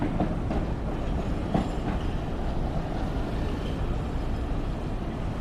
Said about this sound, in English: Wow, they have trams.